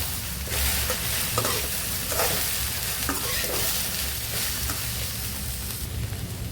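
Steady sizzling and frying of okra in a pan, with stirring scrapes and small clicks throughout, continuous and fairly close.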